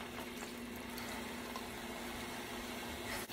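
Tap water running steadily into a measuring cup while cooking dirty rice, a continuous close hiss and splash with no pause and no talking.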